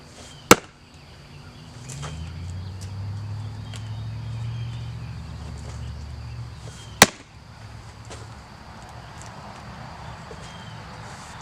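Wood logs being split by hand outdoors, with two sharp, loud chopping impacts about six seconds apart over a low rumbling background.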